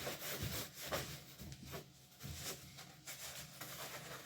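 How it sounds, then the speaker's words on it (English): A towel wiping sawdust off a wet room bathroom floor gives repeated rubbing and scraping strokes, fairly close and steady, with no talking. "We'll wipe it off."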